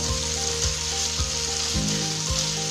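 Capsicum frying in masala with soy sauce for chicken shimla mirch, a steady close hiss of sizzling with a low hum beneath and soft periodic thumps of stirring.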